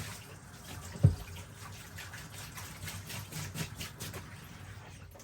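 Water rinsing out a gold pan after panning paydirt, a light continuous trickle and splash with one sharp knock of the pan near the start.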